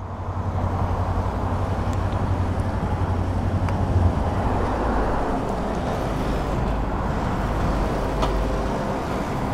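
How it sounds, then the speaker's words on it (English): A grey Kawasaki motorcycle engine idling at a bike night, a steady, loud, close rumble that holds an even drone throughout with no talking. "He's on a grey Kawasaki"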